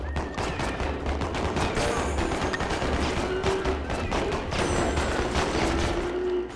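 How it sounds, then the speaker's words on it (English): Rapid, continuous gunfire from shooting in the video game Boom Blox, a dense stream of loud, overlapping shots with thuds of impacts, steady throughout. "I'm shooting everything."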